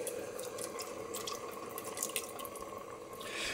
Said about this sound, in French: Là, ce qu'on fait, c'est on rajoute de l'eau